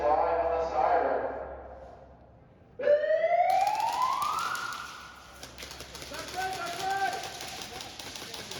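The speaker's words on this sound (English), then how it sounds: "The game is live on the siren." A siren sounds to start an airsoft SpeedQB tournament game, rising in a sweeping wail after a voice speaks, then trailing off while a shrill higher tone continues faintly.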